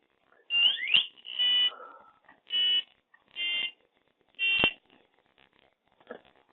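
A CM-50 controller buzzer gives five loud, short electronic beeps, evenly spaced about a second apart, alone with no talk.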